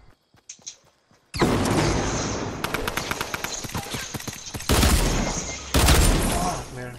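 Rapid, sustained gunfire bursts from Fortnite fill most of the stretch, loud and close, with heavier blasts toward the end after a few quiet clicks at the start.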